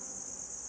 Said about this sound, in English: So this right here, this is a cricket farm.